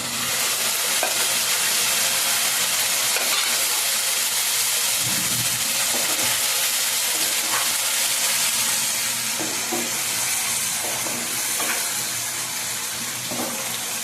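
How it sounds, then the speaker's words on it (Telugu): Beef deep-frying in hot oil, a loud, steady sizzle and crackle that holds throughout with no talking. "ఈ విధంగా అయితే మనం మూత వేయకుండా బాగా వేయించుకోవాలండి"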